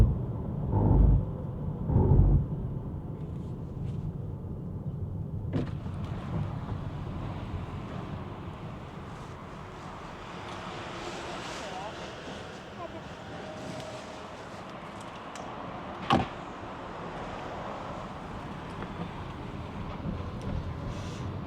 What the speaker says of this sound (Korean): 주행 ASMR 정도로 봐주시면 좋겠고요